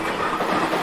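A video-game train rumbles past with a steady clickety-clack of wheels on rails, close and continuous.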